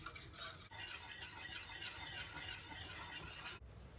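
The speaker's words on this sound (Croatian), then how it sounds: "Kuhamo nekih 5 minuta uz neprestano miješanje." Creamy milk with sugar and custard powder being stirred continuously in a pot while it cooks and thickens, a steady scraping swish that runs without pause.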